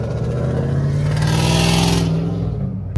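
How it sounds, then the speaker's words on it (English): Several Ford Mustangs accelerate away from a car meet, a loud sustained engine roar rising in pitch over three seconds with strong low rumble and bright exhaust rasp, close by, no talking. "Got some of the Mustangs leaving out. We got, yeah, you can hear it right now."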